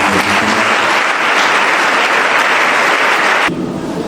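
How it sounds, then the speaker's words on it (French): A church congregation breaks into loud, sustained applause that fills the space evenly for several seconds, then eases slightly near the end as it continues. "Acclamons le Seigneur."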